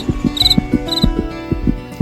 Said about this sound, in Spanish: Grillo, Cuyú.